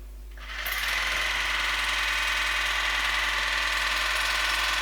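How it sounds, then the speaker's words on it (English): A Youngdo portable water flosser, model YXY-802, switched on in normal mode: a motor kicks in after a brief pause and settles into a loud, steady, high buzzing whine that runs continuously without talk. "now to try the water flosser and see if it can get anything out that my electric toothbrush didn't get"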